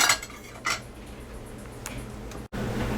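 Shrimp bisque is ladled into a bowl, with a few light utensil clinks and ticks against dishware, close and fairly soft over a steady background hum.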